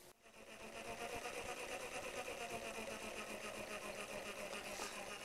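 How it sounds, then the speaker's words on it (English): An electric jigsaw starts and runs steadily, shaking a cord into standing waves, a close, buzzing mechanical whir with a fast regular chatter that holds constant after a brief spin-up. "I'm going to demonstrate standing waves in this cord using this jigsaw."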